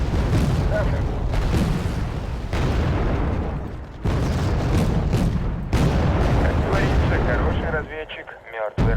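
Artillery fire in the real-time strategy game Wargame: Red Dragon, loud heavy booms and rumbling blasts layered into a continuous barrage, with a voice talking briefly near the end.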